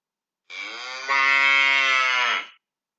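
A single cow moos in one long, loud, close call of about two seconds, its pitch lifting and growing stronger partway through, standing alone with no talking.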